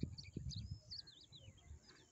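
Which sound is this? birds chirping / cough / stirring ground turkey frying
birds chirping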